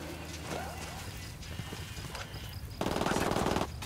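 Rapid automatic gunfire from a tactical shooter set in Bolivia's drug-cartel territory, Tom Clancy's Ghost Recon Wildlands, crackling through an ambient game soundscape, then a dense, loud sustained burst near the end.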